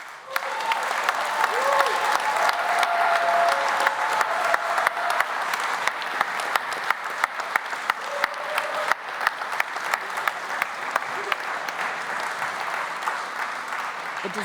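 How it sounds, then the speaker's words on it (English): A conference keynote audience gives a big round of applause, dense sustained clapping that fills the room from start to finish, with faint voices and a brief musical tone early on. "and one big round of applause"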